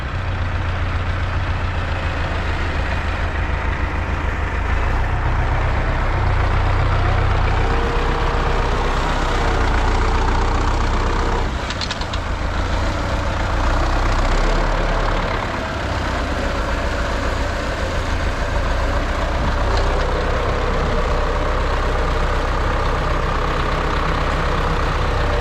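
An MTZ-82 tractor hauls hay through deep mud after days of rain, its heavy diesel engine droning loud and steady at close range with no one speaking.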